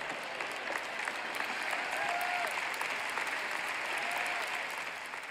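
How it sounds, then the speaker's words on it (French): An audience claps warmly and steadily, a dense wash of applause from a crowd at a French-language sermon, moderately distant and without speech. "Ça ne mérite pas des applaudissements, n'est-ce pas?"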